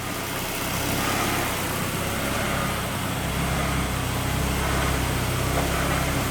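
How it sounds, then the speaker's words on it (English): A Honda Civic engine idles slightly choppy and lean, a steady low rumble with faint irregular pulsing that runs on alone, close by and with no talking. "The idle's a little bit choppy because of the idle control valve"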